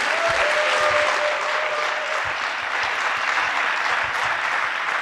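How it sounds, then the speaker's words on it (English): An audience at a company event claps in sustained, dense applause that holds steady and loud throughout. "Let's give them all a round of applause."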